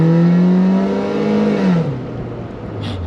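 A BMW Z3 engine revs loudly and close with a rising whine that then falls away into a lower, rougher drone.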